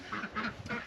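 Farm ducks quack at feeding time, a few overlapping nasal calls in quick succession, fairly close but soft, with no talking.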